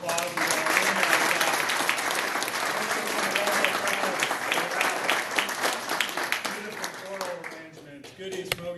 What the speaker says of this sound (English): let's give our sponsors another round of applause